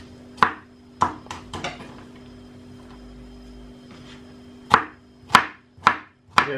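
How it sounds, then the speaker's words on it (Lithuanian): Onion is finely chopped with a knife on a board: a few sharp, close taps, a quiet gap of about three seconds, then another short run of evenly spaced chops. "Pjausto smulkiai."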